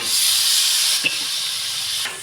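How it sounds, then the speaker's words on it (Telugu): Tomatoes and onions fry in a pan with a loud, steady hiss of sizzling oil, easing slightly after a second with a small clack, close up and without any speech. "టమాటాలు ఇలా బాగా వేగాలి"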